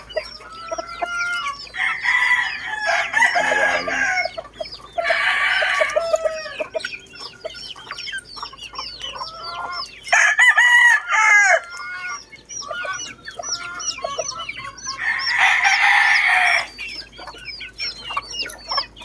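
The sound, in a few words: cockerels crowing in a backyard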